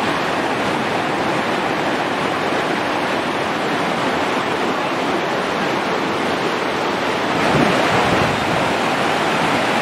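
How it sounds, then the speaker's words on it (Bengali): The Subarnarekha river at Ghatsila, swollen by monsoon rain, rushes past in a loud, dense, unbroken roar of flowing water, heard close and steady throughout. "দেখুন এই যে জল, এই জলের ফ্লো"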